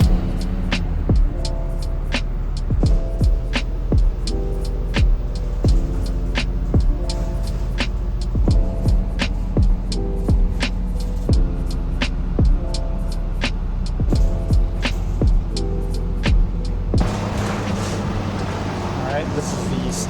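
Interior ride on the number 7 city bus from Alton to Edwardsville: a steady engine drone and road rumble run throughout with repeated rattles and clunks, shifting to a rougher, noisier roar near the end; speech is faintly present.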